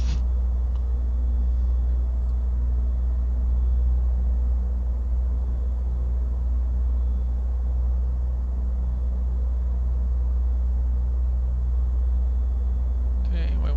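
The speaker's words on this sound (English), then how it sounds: "now this plane does taxi very fast." Single-turboprop Pilatus PC-12 taxiing in Microsoft Flight Simulator 2024, a steady loud low engine rumble droning evenly throughout with no variation.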